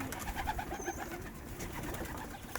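Pigeons in a pigeon loft coo softly and steadily in overlapping low calls, with faint rustling and background noise throughout.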